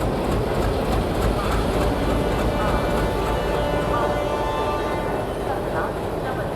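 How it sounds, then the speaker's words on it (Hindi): Steady rumbling of a train being shunted in India, with a low engine drone and faint rail clatter, continuous and fairly loud throughout. "गाड़ी शंट करके ला रहे हैं।"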